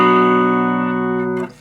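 A chord rings from an Epiphone Les Paul Gold Top on its neck pickup through a Vox AC4TV amp, sustaining loud and close before being cut off abruptly near the end with a short noise, with no voices present.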